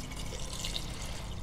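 Water pours steadily into a pressure cooker holding a fish curry, a continuous close, rushing stream that stays even and unbroken throughout.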